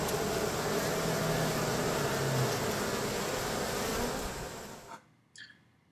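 Honey bees drone in a dense, continuous buzz during a first spring hive inspection, loud and close for most of the stretch, then the swarm sound cuts away abruptly near the end, leaving only a few faint stray buzzes.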